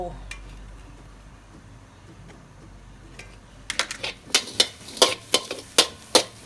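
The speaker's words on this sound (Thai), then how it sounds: "เจียวกระเทียม" Garlic frying in a little oil for a stir-fry, starting quiet with faint ticks, then a series of sharp, loud crackling sizzle bursts spitting up close in quick irregular succession.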